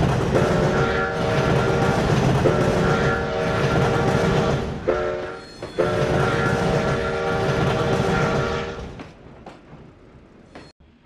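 A Denver & Rio Grande Western narrow gauge train in the game Trainz 2009 rumbles and clatters downgrade, with long, loud horn blasts sounding twice, then the noise fades away into quiet.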